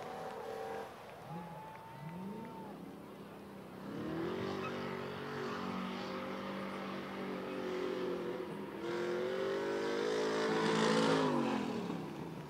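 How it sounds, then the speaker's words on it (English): Drag race car at Rockford Speedway spinning out, engine notes rising and falling in sweeping whines at a distance, then a louder sustained revving roar building toward the end. "Jordan Wenig spins it out, but gets it done"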